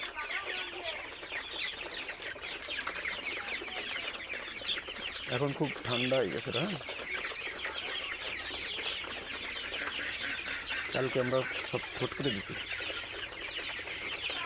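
Sonali chickens cluck and squawk in a loud flock on a poultry farm, a busy continuous chatter with sharper bursts from individual birds, while people talk over the noise.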